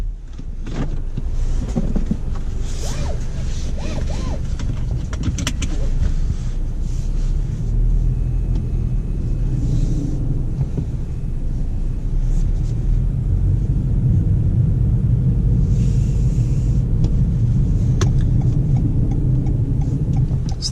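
A 2020 Toyota Corolla Hatchback XSE out on the road: a steady low engine and tyre rumble fills the cabin, continuous and moderately loud, with occasional small interior clicks and no talking.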